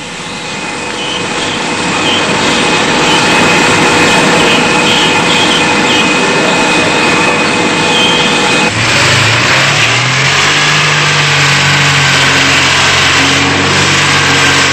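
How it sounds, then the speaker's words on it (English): A Skoda car engine runs steadily on a test bench in a 1982 testing facility. The loud, constant mechanical drone changes character partway through as the engine note drops into a lower hum. No one speaks. "Engine being built and tested to improve fuel economy and to reduce noise."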